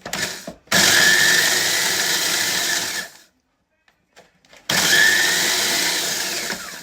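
A kitchen machine grinds biscuits to powder in two loud, steady whirring bursts, separated by a stretch of near silence with faint handling clicks.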